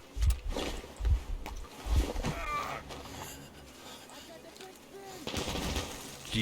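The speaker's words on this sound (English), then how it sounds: "Shooting me through the wall." Gunfire punching through a wall in Metro Exodus, three heavy low thumps in a steady rhythm, followed by muffled scuffling, game noise and a voice talking.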